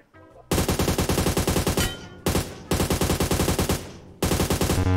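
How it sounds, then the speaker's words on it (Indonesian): Rapid automatic gunfire from a first-person shooter game, loud sustained bursts of repeated shots with short pauses between them, a headshot landing in the exchange. "sekarang sudah headshot itu kereteng gitu bunyinya"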